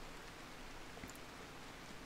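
Steady rain falls in the colony-building game RimWorld, a soft continuous hiss of drops with no talking over it.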